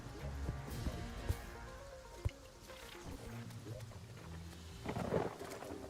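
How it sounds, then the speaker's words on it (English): Thunder rumbling in a video game storm, a low rolling roar with a couple of sharp cracks and a swelling burst near the end, under someone talking. "Oh, lightning's again, so that's nice."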